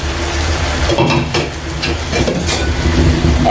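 Bottle gourd pieces fry in a pan with turmeric and salt, giving a steady, close, fairly loud sizzle with scraping stir sounds and no talk.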